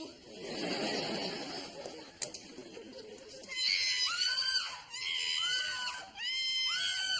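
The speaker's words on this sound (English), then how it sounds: "We're in a scream loop." Shrill screaming, first a broad noisy burst, then several rising high-pitched shrieks in quick succession, close and loud.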